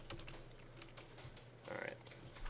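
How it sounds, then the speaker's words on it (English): Someone types on a computer keyboard while modeling in Rhino software. Quick, faint key clicks tap in an uneven rhythm, with a brief slightly louder flurry near the end. "I typed it wrong"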